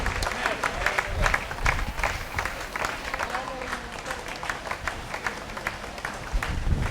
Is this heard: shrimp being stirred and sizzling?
no